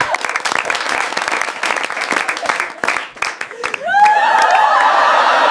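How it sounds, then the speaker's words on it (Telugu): An audience breaks into applause for a performer at a Telugu comedy show, a loud rush of clapping that swells near the end after scattered claps and chatter. "ఆడియన్స్, మనోడికి క్లాప్స్."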